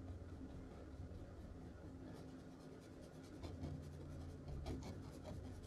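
Paintbrush scrubbing oil paint onto canvas for a mountain landscape, a faint, close, rhythmic bristly rubbing that continues steadily with short strokes.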